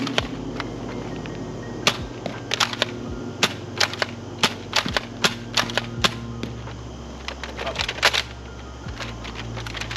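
A Nerf Flip Fury foam dart blaster being fired repeatedly, a rapid series of sharp clicks and snaps with mechanical rattles over a low steady hum, close and fairly loud, no speech.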